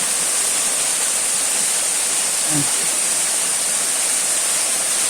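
A waterfall in a valley pours with a steady, dense roar that fills the whole clip, constant and close, with a faint brief voice barely surfacing midway.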